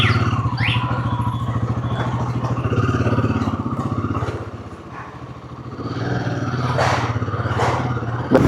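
Motorcycle on a short Sunday ride out of Kolkata toward Diamond Harbour, its engine droning steadily close up with wind rush and some rattling, the revs dipping briefly midway and then rising again.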